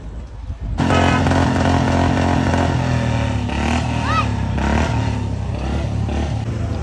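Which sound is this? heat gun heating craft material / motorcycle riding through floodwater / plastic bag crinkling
motorcycle riding through floodwater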